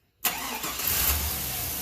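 A 1999 Chevy Silverado with a 5.3L engine that is running lean, cranking and catching at once into a steady, close idle that holds for the rest of the moment.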